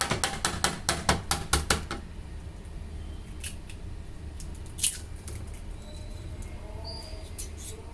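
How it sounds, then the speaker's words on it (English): Eggs beaten with a whisk in a deep bowl: a quick run of about eight sharp, rhythmic clinks and taps up close, then quieter scattered scraping and faint clatter over a low background hum. "In my case, I am going to beat the eggs with a whisk."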